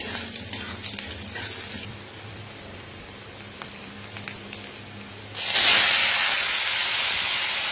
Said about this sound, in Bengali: এই রসুনগুলো দিয়ে দেবো, দিয়ে ভালো করে লাল লাল করে ভেজে নিতে হবে।